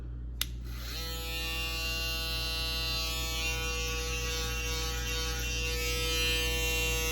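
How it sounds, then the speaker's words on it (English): A click, then a Babyliss FX3 two-foil electric shaver whirs up to a steady, high-pitched buzzing drone that runs continuously and fairly loud, close by. "Nice machine, 2 foil shaver."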